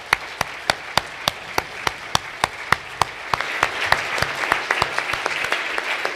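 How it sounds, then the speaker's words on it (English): Conference audience applauding a panel at an energy-crisis event: sparse, distinct claps at first, then swelling into fuller, denser applause over about six seconds, heard close and alone. "can we have a round of applause for a marvellous panel?"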